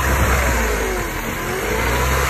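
A supercharged Mercedes-Benz Kompressor engine revs up close, a loud, steady mid-pitched roar that rises and falls slightly over a couple of seconds with no talking.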